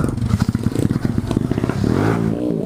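A motorcycle on a muddy trail ride near San Miguel, Echague, with a close, loud engine that sputters and pops in uneven bursts before rising into a steadier revving drone as the bike pushes through the mud.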